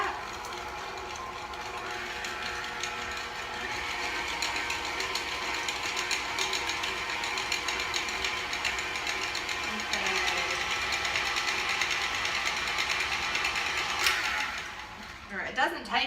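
Electric mixer whirring steadily through ranch popper filling, a continuous motor drone with a slight rise in pitch partway through, cutting off near the end.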